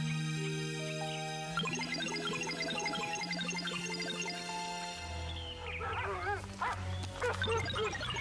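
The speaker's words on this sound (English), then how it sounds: "Where did all these dogs come from?" Several dogs bark and yip in an animated film, close and overlapping over a bed of orchestral music, with the barking growing busier toward the end.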